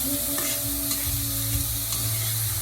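Food frying in a pan for a homemade meal is stirred steadily, with a continuous close sizzle and soft scraping strokes throughout, no voices.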